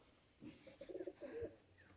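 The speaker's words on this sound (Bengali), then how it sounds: "এই পায়রাটা এক্ষুনি উঠতলো" A pigeon coos close by, giving one soft, low, throaty sequence of pulsing notes in an otherwise quiet setting.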